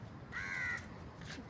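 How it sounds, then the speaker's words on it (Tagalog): A single crow gives one drawn-out caw outdoors near a stadium in Singapore, fairly faint and slightly distant over quiet ambient noise. "Ano, sinusundan ako ng ibon, no?"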